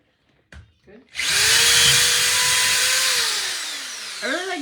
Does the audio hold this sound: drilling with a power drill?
yes